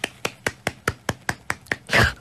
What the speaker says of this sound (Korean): 박수도 차분하죠?